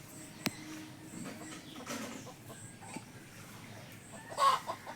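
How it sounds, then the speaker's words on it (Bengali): Free-ranging village chickens cluck softly in a bamboo grove, with scattered short calls over quiet outdoor ambience and one louder burst near the end. "এখানে বাঁশবাগানে আমার মুরগি চড়তে এসেছে"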